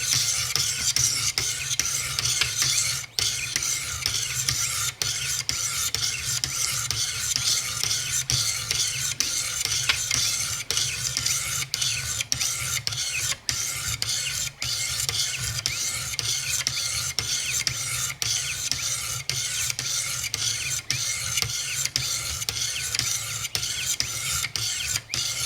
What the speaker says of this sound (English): Just start about halfway along the blade and then work it back in here.